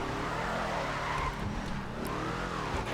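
A car engine revving steadily with tires squealing and skidding, a continuous loud motor drone rising and falling in pitch, from an armored car in GTA 5 Online.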